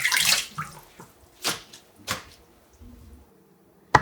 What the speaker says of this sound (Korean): 꼼꼼히 한 번 더 씻어줍니다